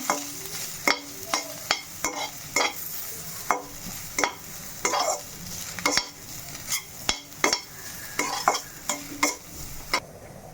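Grated coconut sautéed in a pan for tamarind-leaf chutney, a spatula scraping and clacking against the metal in steady repeated strokes over a soft continuous sizzle, close and fairly loud, with no talking.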